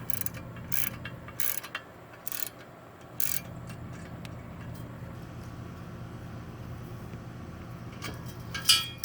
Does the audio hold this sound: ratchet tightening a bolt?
yes